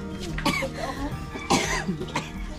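A person coughs in several sharp, harsh bursts spaced about a second apart, close and fairly loud, with faint voices in the background between them.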